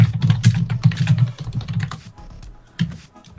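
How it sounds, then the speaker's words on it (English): Fast, busy typing on a computer keyboard, dense bursts of clicking keys that ease off and then return with a final clack, close and clear with no talking. "So much mad typing right now."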